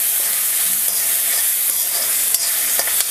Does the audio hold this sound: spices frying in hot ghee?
yes